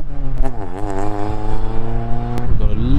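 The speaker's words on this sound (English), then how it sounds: "We've got a lovely R35 GTR coming in." A Nissan R35 GTR pulls in close with a steady, deep engine note whose pitch sweeps up and down as the throttle is worked, loud throughout with a brief sharper burst near the end.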